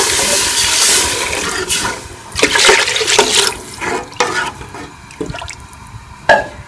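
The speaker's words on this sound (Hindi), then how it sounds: "हम इसमें 2 गिलास पानी शामिल कर लेंगे।" Two glasses of water poured into frying spice masala for restaurant-style tadka dal splash and hiss loudly at first, then settle into uneven bursts of bubbling and spattering.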